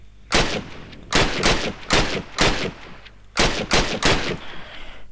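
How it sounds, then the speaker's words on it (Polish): An M1 rifle fires in a Minecraft World War II mod game, heard as about eight sharp, loud shots in quick pairs and clusters with short pauses between, each shot leaving a brief echoing tail; no speech over them. "Dobra, teraz jakiś M1 karabin."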